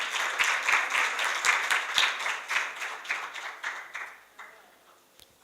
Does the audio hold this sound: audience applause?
yes